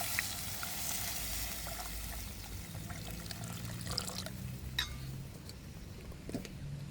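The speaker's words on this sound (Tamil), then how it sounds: "நான் இந்த கறிக்கு தேவையான தேங்காய் பாலை சேர்க்குறேன்" Coconut milk goes into karunai kizhangu curry frying in oil, giving a soft pouring trickle over a low, steady sizzle with faint clinks, heard alone at moderate distance.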